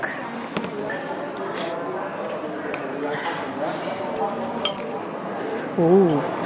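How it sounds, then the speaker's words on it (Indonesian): A spoon stirs nasi lengko from Haji Barno in Cirebon, mixed with sweet soy sauce on a plate, giving faint scraping and light clinks against a steady busy room murmur and background voices. "Gue kecapin sedikit. Lalu gue aduk."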